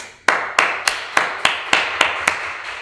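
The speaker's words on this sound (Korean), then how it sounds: "여러분 일단 박수 한번 치시죠" Nine sharp claps ring out in an even, steady rhythm, each one close and crisp, with no voices or other sounds alongside.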